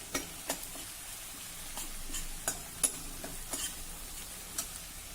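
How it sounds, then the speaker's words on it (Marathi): Kharda spice paste sizzles in oil in a pan, a soft steady fry with scattered sharp ticks and clicks of stirring, close and fairly quiet. "एक मिनिटासाठी हा खरडा आपण जरा तेलावर परतून घेऊ."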